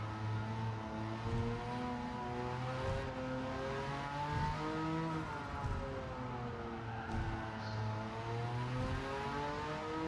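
A Porsche 959 race car engine in Gran Turismo 7 on the Tokyo Expressway, a sustained high-revving drone with rising and shifting pitch as gears change, continuous and close.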